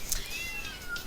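A cat meows once in the Tasty Planet: Back for Seconds game, a faint drawn-out cry over a thick, noisy background with no talk.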